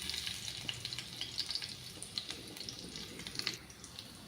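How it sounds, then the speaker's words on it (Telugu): Chana dal, small garlic cloves and spices fry in hot oil, a soft continuous sizzle dotted with tiny crackling pops, faint and close. "ఇవన్నీ మంచిగా వేగనివ్వాలండి"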